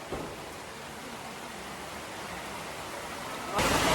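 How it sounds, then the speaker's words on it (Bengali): Steady rain falls outdoors as a broad, even hiss that runs throughout, swelling louder near the end; no voices stand out. "এই বৃষ্টির মধ্যে"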